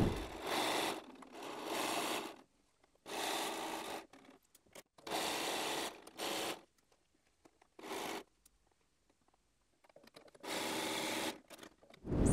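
A sewing machine stitches quilt pieces together in several bursts of rapid mechanical whirring, each lasting one to two seconds. Quiet pauses fall between the runs and no voices are heard.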